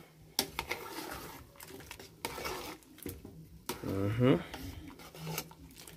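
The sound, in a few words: stirring a pot of Jamaican red peas soup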